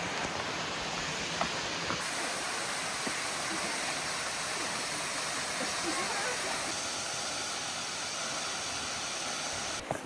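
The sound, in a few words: Mirror Falls waterfall on Washington's Olympic Peninsula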